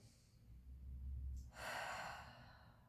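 Slow, deep breaths drawn during a yoga exercise in a relaxation session: a soft inhale, a brief pause, then a longer, airy exhale that carries on steadily at close range with no talking.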